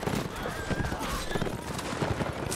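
Horses gallop through a video game line battle, their hooves drumming in a dense, continuous clatter under faint voices and scattered gunfire.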